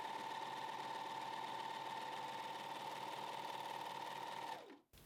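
A Janome 1100D serger stitches steadily through two layers of cotton flannel, a close continuous whirring hum with a fast even rhythm that runs unbroken before stopping abruptly near the end.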